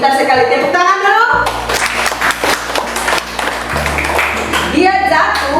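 A classroom of young children claps together in a short burst of quick, crisp hand claps, bracketed by a teacher speaking before and after, with a faint steady hum underneath.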